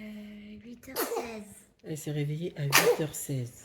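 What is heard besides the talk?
baby sneezing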